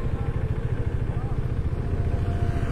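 A motorcycle on a long highway road trip runs at low speed with a steady, throbbing mid-range engine rumble, close and continuous, with a voice speaking over it.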